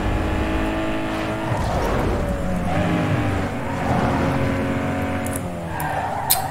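In Need for Speed Underground 2, a Peugeot accelerates hard, its engine note rising and shifting through gears with tyre squeal and skidding, loud and continuous for several seconds.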